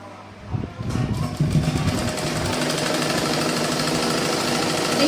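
A sewing machine runs steadily while a waistband band is stitched onto a blouse, with the motor starting after a brief quiet moment and then whirring continuously at close range.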